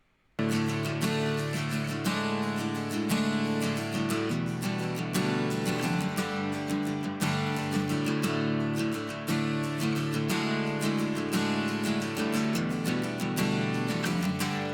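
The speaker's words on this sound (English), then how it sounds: "here is the sound of the acoustic guitar bus as is with Fairchild compression" Strummed acoustic guitars play a steady, full rhythm with an even, smoothed level throughout from light Fairchild-style compression on the guitar bus, no voices present.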